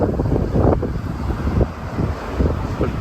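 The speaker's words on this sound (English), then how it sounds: "I don't know if you can hear me because it's quite windy now." Strong wind buffets a microphone outdoors by a river at the edge of a small Tuscan town, giving loud, uneven low rumbling gusts that swell and drop without pause.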